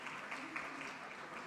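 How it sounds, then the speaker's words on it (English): Audience applause at a panel on freedom of expression, a soft, fairly distant wash of many hands clapping that runs through the short moment with faint voices mixed in. "A big round of applause for all of them."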